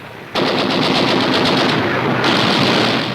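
An enemy machine gun fires in a South Pacific jungle battle of the Second World War. The burst is loud and sustained, a continuous rapid rattle of gunfire lasting about three seconds with no pause.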